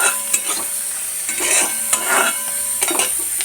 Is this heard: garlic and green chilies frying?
yes